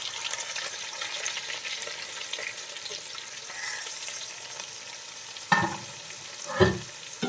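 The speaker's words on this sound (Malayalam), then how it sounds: "അപ്പോൾ ഇനി നമുക്കിതിലേക്ക് സവാള ഇട്ട് കൊടുക്കാം." Four onions sautéing in a pan for a Chemballi fish curry, a soft continuous frying hiss with two louder bursts of sizzle and clatter toward the end as they are stirred.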